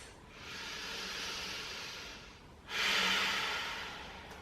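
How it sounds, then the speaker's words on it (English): Two slow, deep breaths close to the ear: a long airy inhale that swells and fades, then a stronger, louder breath following after a short gap, with no talking. "slow, deep breaths"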